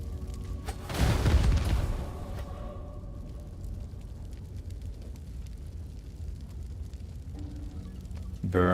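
Fire burning in the fantasy role-playing game Divinity: Original Sin 2, a sudden roaring whoosh that swells for about a second, then settles into a steady low crackling rumble that carries on to the end.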